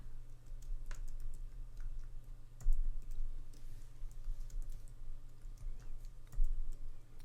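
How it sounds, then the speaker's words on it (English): A password is typed on a computer keyboard: rapid, close key clicks and taps with irregular rhythm and a few louder presses, no voices. "And then type in a password."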